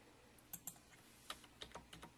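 Arrow keys on a computer keyboard get pressed in a series of sharp, quiet clicks: a pair of taps, a short pause, then several more irregular taps, close and on their own.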